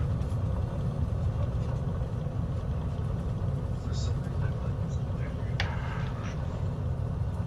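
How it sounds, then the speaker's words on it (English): A Beechcraft airplane engine runs during a crop-dusting flight in a flight simulator game, giving a steady, continuous low drone with a few faint incidental blips over it. "Let me cut off my engine and see where I'm at."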